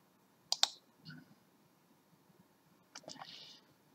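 Computer mouse clicks, a quick close double click followed later by another cluster of soft clicks, in an otherwise quiet room.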